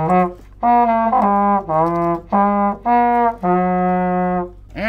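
A mellophone plays a series of sustained, separated brass notes, loud and close, with brief pauses between phrases and no talking.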